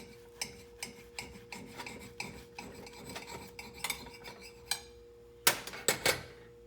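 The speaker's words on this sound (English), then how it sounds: "you can take your knife and you can cut it" A knife saws back and forth through a peanut butter and jelly sandwich in a rapid series of close, raspy scraping strokes, ending with a few louder crisp cuts against the plate.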